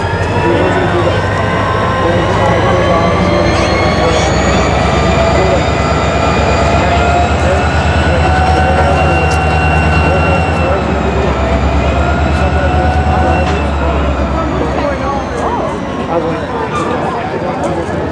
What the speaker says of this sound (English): There's a train on the other side.